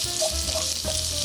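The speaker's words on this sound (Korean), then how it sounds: "웍이 달궈지면 기름을 2숟가락 정도만 넣어주세요. 양파 먼저 넣어주시고요." Onions hit hot oil in a heated wok for a Korean holiday stir-fry, giving a steady, close, loud sizzle and crackle with faint stirring scrapes throughout.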